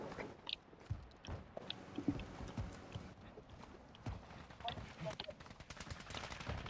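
Gunfire in a shooter video game, a busy mix of sharp cracks and rapid bursts scattered across the whole stretch, with a voice talking faintly in the background.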